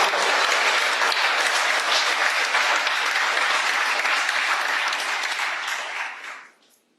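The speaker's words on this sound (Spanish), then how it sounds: "vamos a dar entonces un aplauso." Conference audience in Maldonado, Uruguay applauding Henry, a thick, even burst of clapping that holds steady for about six seconds before fading quickly to silence.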